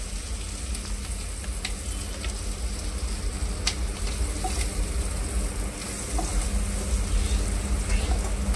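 Onions sizzle and fry steadily in a pan for ambadi bhaji, a rural Maharashtrian greens dish, with a constant crackling hiss that stays close and grows slightly louder toward the end.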